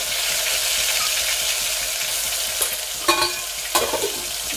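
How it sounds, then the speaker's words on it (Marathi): Mutton sizzles in hot oil tempering with Kolhapuri masala, a continuous loud frying hiss, while a spoon stirs the pan and scrapes with a few sharp knocks near the end. "डायरेक्ट फोडणी मटणाला कोल्हापुरी मसाला झंझणीत"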